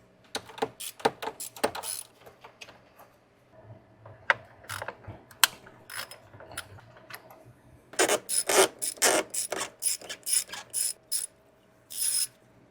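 A ratchet wrench loosens 10mm bolts on a Toyota throttle body, giving repeated bursts of crisp, close pawl clicking, with busier, louder runs near the end and no talk.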